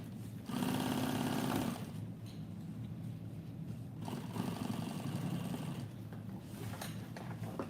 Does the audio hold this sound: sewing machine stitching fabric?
yes